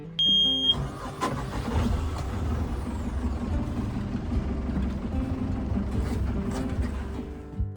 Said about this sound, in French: Il allume le moteur pour le faire chauffer.